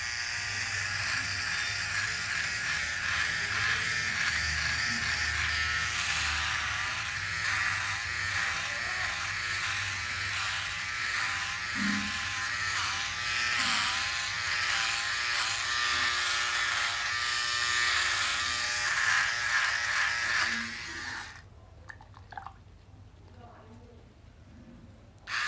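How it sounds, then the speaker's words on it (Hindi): A Philips OneBlade QP2525 electric trimmer runs with a steady, bright buzzing whine that holds for about twenty seconds close to the mic before switching off, with a man's speech faintly underneath. "तो सबसे पहले मैं लेता हूँ ट्रिमर से।"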